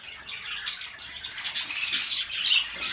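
Captive budgerigars kept in a breeding room give a busy stream of high, scratchy squawks and chirps that overlap continuously at moderate distance, with no talk.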